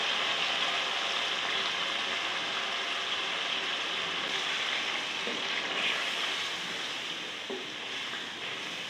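Chicken pieces for palak chicken fry in a pan with a steady, even sizzling hiss. It is moderately soft and unbroken, with only a faint stir or tap now and then.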